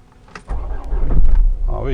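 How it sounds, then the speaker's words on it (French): A Chrysler PT Cruiser 2.2 CRD diesel, fitted with a freshly replaced battery, has its starter crank vigorously before the engine catches, a close, loud mechanical churn building over about a second and a half, with a voice speaking near the end. "le démarreur tourne déjà avec beaucoup plus d'énergie"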